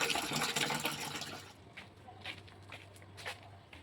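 Water runs into a bucket for a household bath, a broad splashing rush for the first second and a half that then drops to a quieter trickle with scattered clinks and knocks, heard up close with no talking.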